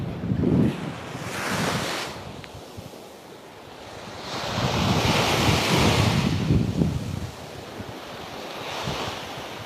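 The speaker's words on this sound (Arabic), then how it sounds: "صوت البحر ما أحلاه" Mediterranean sea waves wash onto the shore at Málaga, Spain, in slow surges, rising and falling, with wind buffeting the microphone; no voices.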